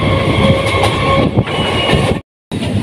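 An empty Howrah–Haldia local train runs steadily on its rails, a continuous close rumble and hum with faint wheel clicks, cut by a brief moment of silence near the end.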